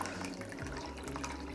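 Cold water is poured into a container, a continuous close splashing gurgle with faint drips over its short span.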